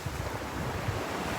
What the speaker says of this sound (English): when the wind picks up and tangles your stuff